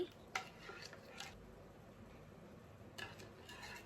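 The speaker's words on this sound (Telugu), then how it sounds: "షుగర్ అంతా కరిగేంత వరకు మంచిగా కలుపుకోవాలి." Sugar being stirred into a mixture in a home kitchen, soft repeated scrapes and clinks of a spoon against a vessel, faint and close, with no voices.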